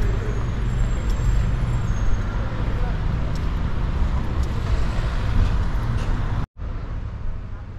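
A service vehicle's engine idles steadily with a low, continuous rumble and road noise throughout, cutting off abruptly near the end before a quieter hum resumes.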